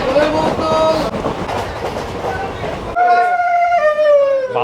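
A new passenger train on the Krishnanagar to Azimganj line rumbles and clatters up close, then a long sustained horn sounds, with voices faintly mixed in.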